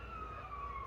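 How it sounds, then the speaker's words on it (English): A fire siren wails outside an open window, faint and distant, a steady rising tone over quiet room hiss in a very brief moment. "Please try to ignore the fire sirens."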